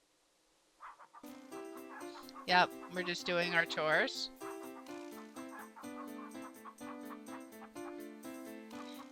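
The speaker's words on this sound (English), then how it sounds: "The hatch is home for the hens and comes complete with a supply of chicken feed. The hens peck their way around the coop." Hens cluck and peck around a coop in a video game, their repeated clucks sounding over steady game music while a person talks briefly.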